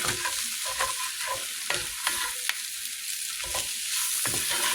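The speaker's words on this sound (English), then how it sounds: "we can then add the garlic in and saute that for a few seconds" Garlic sizzles in a pan for jambalaya, a steady bright frying hiss broken by the scrape and clink of stirring utensils, heard close and without talk.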